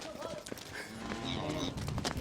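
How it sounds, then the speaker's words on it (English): Cows on a farm lowing while being herded and moved, with steady rural background noise and faint mixed calls over about two seconds. "Moving cows is simple in theory,"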